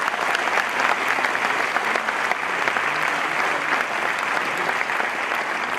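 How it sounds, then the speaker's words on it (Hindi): Loud, sustained applause from a large crowd, dense steady clapping filling the space without a break for several seconds. "मेरे जोरदार गगनभेदी ताली"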